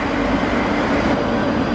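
The 907 South Western Railway service to Windsor and Eton Riverside rumbles steadily and close at a station stop, a continuous low mechanical drone with no voices over it.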